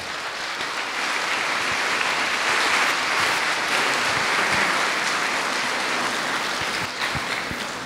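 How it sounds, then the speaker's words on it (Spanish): An audience applauding to welcome a guest to the stage, sustained dense clapping from a full room that holds steady throughout. "Recibamos al hermano con un fuerte aplauso"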